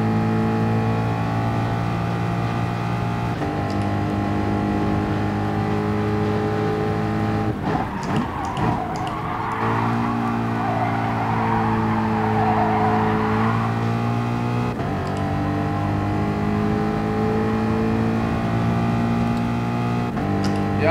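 A race car tears around Monza in GT Sport, its engine droning steady and loud. Partway through it drops through gear changes with a brief skidding burst at a chicane, then climbs back to a sustained high whine.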